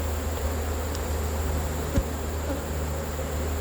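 Honey bees buzz at an open beehive during a summer hive inspection, a dense continuous drone close by with a steady hum, and one brief tap partway through.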